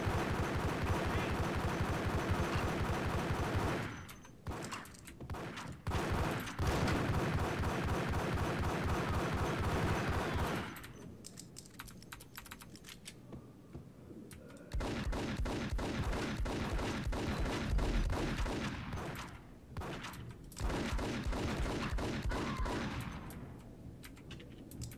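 Gunfire in the game Max Payne, long bursts of rapid machine-gun and pistol shots, loud and close, broken by short pauses.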